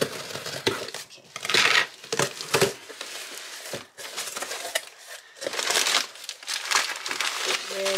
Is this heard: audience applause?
no